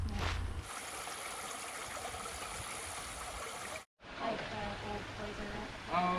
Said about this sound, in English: going up a creek here